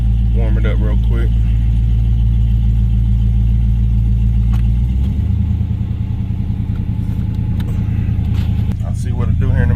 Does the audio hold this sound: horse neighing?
no